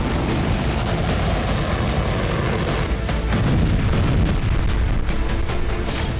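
Missile strikes by ATACMS and Storm Shadow missiles on Russian territory give a loud, dense, continuous roar of blasts and rumbling booms that fills the whole stretch, with no speech.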